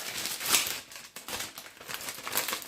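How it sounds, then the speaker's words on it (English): A plastic bag crinkles and rustles in short, irregular bursts as wonton wrapper dough is slipped inside, close and fairly quiet, with no voices. "pop it in the plastic bag"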